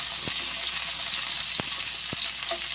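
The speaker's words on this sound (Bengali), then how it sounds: "পটলগুলো অল্প তেলেই আমি ভেজে নেব একটু মানে ঢাকা দিয়ে দিয়ে ভেজে নেব" Pointed gourd frying in a little oil, partly covered, gives a steady dense sizzle throughout, broken by a few sharp clicks of stirring.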